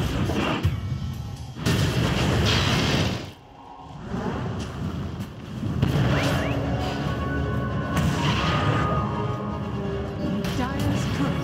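Dota 2 match with a Dire tower under attack and destroyed: heavy booming impacts and crashing blasts fill the scene, with an announcer-style voice speaking over the battle.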